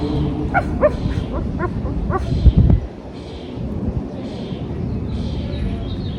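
Children in a yoga class imitate a dog, a cluster of yappy barks and yips over a noisy room, peaking in one loud burst before fading back into chatter and murmur.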